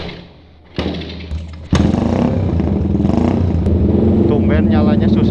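A Suzuki Satria FU motorcycle engine cranks with a few clattering starter attempts that cut out, then catches and settles into a loud, steady idle close by.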